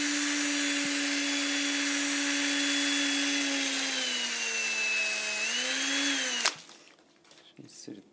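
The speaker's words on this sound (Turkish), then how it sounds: "Zımpara yardımıyla." A power tool, likely a drill used for sanding, runs steadily on a wooden model airplane part, its pitch sagging and then rising before it cuts off abruptly, leaving scattered handling noises.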